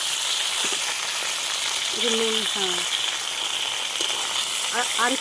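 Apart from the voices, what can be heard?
potatoes frying in a pan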